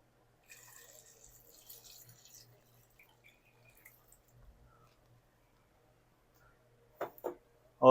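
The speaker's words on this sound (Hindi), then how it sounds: "तो इसमें हम ऐड करते हैं पानी" Water poured into a pot of cut potatoes before boiling: a soft, faint splash and trickle in the first couple of seconds, then near silence with a few small clatters at the end.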